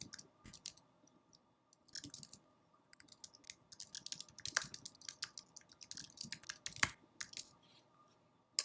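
Computer keyboard typed on in bursts, fast clicking keystrokes close and fairly quiet, with brief pauses between runs of keys.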